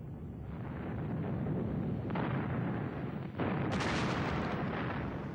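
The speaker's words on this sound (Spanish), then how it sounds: "Stalin ordenó 12 salvas de 124 cañonazos" Artillery cannon salvos fired as a victory salute at the Red Square in Moscow rumble as heavy, sustained booming blasts with overlapping echoes, loud and unbroken.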